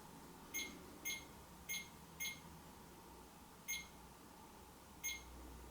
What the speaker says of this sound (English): That noise is coming from the mel meter.